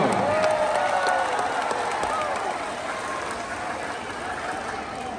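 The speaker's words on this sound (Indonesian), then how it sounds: "Tepuk tangan untuk beliau" A huge crowd of thousands applauds at an Anies campaign rally in Banten, a broad, sustained roar of clapping and crowd noise with a voice carrying over it, easing slightly in the second half.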